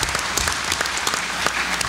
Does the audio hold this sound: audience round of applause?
yes